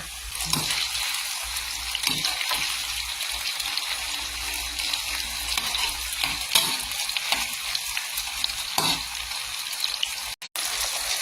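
Marinated pork belly fries steadily in fish sauce, a dense, continuous close-up sizzle and crackle with occasional louder pops and stirring scrapes, no voices, briefly cutting out near the end.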